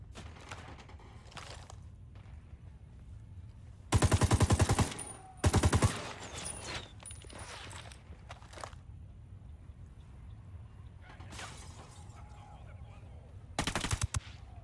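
Light machine gun fire in the Ghost Recon Wildlands video game: two loud sustained automatic bursts, a shorter one near the end and a few faint distant shots, over quiet game ambience with no talk.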